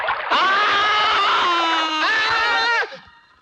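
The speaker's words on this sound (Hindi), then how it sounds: "आप चिल्लाए क्यों सर?" A man lets out a loud, sustained scream of pain after being scalded by hot water in a bathroom, one long cry that dips midway and rises again before cutting off sharply, in a 1995 Hindi action film scene.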